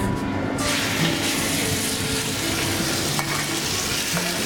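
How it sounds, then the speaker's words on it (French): Poultry sizzles and fries in a small pot over fairly high heat, a steady crackling hiss with occasional stirring scrapes, close and fairly loud. "On va faire dans cette petite marmite revenir gentiment pour faire un petit peu colorer donc la volaille"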